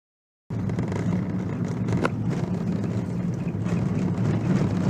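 A car drives along a road into the mountains near Antalya, giving a steady, loud rumble of engine and road noise that starts abruptly and carries on without a break. No voices can be heard.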